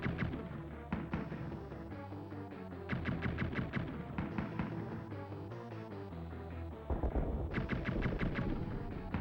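Enemy gunfire in the game Blackthorne, repeated quick volleys of shots over a busy low musical backdrop, several bursts spread through the clip at moderate loudness.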